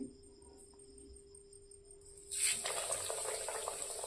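Chira chop, a flattened-rice cutlet coated in biscuit crumbs, drops into hot oil after a quiet start with a faint whine, then a loud, steady hiss and crackle of frying.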